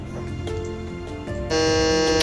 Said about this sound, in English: get those fingers ready on the buzzers for the next one